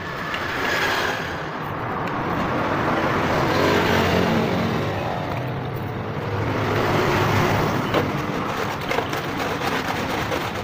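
Heavy road traffic rumbles steadily past a roadside spot, with large trucks hauling material for a road construction project, a continuous loud engine and tyre roar that swells and fades without a break.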